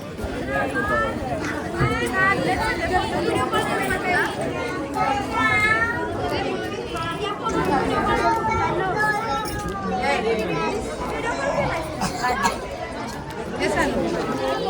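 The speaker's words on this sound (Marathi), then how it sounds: "आणि इकडे गर्दी बघा लोकांची" Tourists crowd together at Malvan in Sindhudurg, making a dense, continuous hubbub of overlapping voices, including children's, that holds steady and close the whole time.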